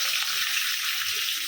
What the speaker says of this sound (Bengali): মাছগুলো আমি জাস্ট গরম তেলে একটু দিয়েই উল্টিয়ে দেবো